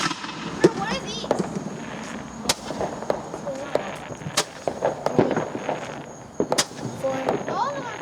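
July 4th fireworks going off nearby, a scattered series of sharp bangs and crackles with people talking throughout.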